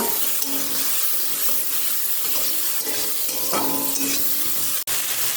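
Kashmiri chilli masala with a splash of water being stir-fried in a pan, a steady close sizzle with scraping stirs and a sharp clack near the end, no voices.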